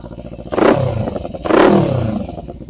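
A 2017 Kawasaki Ninja 300 ABS engine idles up close, rising into two short revs about a second apart before dropping back to a smooth idle.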